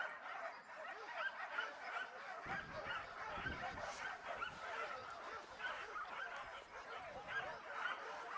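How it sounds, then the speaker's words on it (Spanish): Distant hunting dogs bark and yip repeatedly in a chorus during a hunt, with a soft steady background hiss throughout. "A los perros de las realas se les va notando"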